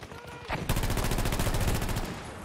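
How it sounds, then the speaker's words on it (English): Battlefield 2042 game combat during the Year of the Dragon event: a dense, loud burst of weapon fire from a launched rocket-propelled grenade, with rapid sustained crackling and booming that holds steady near and close for about two seconds. "We're shooting RPGs"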